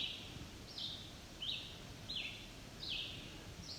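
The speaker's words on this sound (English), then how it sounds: "And the other bird going on and on, that's a red-eyed vireo." A red-eyed vireo sings on and on at Juniper Flats, short high phrases spaced evenly about every second, clear but not close, over a soft woodland hiss.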